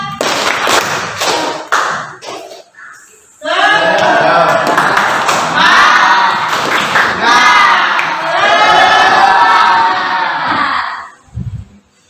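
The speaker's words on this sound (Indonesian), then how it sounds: "Oke, tepuk semangat." A classroom of students performs a rhythmic spirit clap, with bursts of patterned clapping, then loud group chanting and shouting over it, close and energetic.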